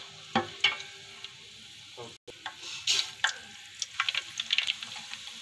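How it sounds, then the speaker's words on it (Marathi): Bay leaves crackle and sizzle in hot oil for tempering, with a few sharp pops and light stirring scrapes, close and fairly quiet. "त्यामध्ये तेजपत्ता घालू। अरे हे तेजपत्ता थोडा गोल्डन येऊ द्यायचा।"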